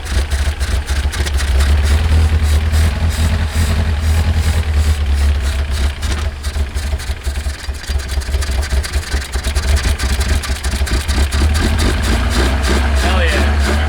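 A project supercar's engine catches and settles into a rough, loud idle with a deep rumbling throb and uneven pulsing, close by, while people talk intermittently nearby.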